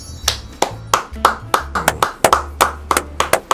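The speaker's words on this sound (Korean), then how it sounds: "박수 한 번 주세요." Hands clapping in steady, fairly close applause, a rapid run of sharp claps lasting a few seconds with no talking over it.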